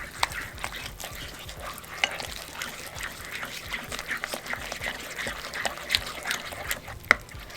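Crab dip being stirred after half a lemon's juice is added, a steady soft scraping and squelching of a spoon working through a thick creamy mixture, close and continuous with no talk.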